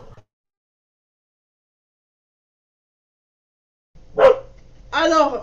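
A real pet dog barks indoors: after near silence there are two or three close barks in quick succession, with a voice talking nearby.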